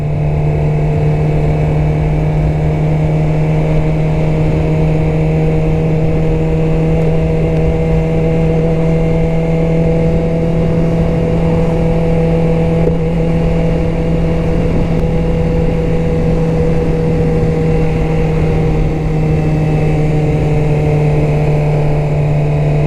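Suzuki GSX-R motorcycle engine while riding, a loud steady drone at constant speed with a strong low hum and layered tones, continuous and close without talk.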